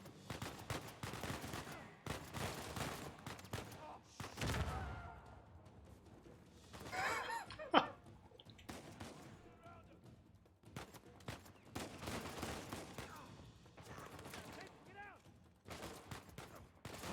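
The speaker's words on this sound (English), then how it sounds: "He's still shooting." Gunfire in the video game Uncharted 4: A Thief's End: scattered sharp shots arrive in irregular bursts, with one louder crack standing out midway amid a busy game soundscape.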